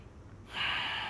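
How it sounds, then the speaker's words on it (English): A person lying still takes one slow, soft breath in through the nose after a near-silent pause, a close, airy hiss that swells and then holds steady. "So just lay there, breathing in and out through the nose."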